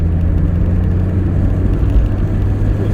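Mk.2 Astra on a road test drive, engine rumbling steadily as it picks up speed, loud and close from inside the car with no talk.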